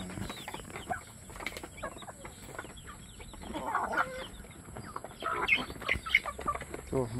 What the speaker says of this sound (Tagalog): So, mga nangingitlog na to.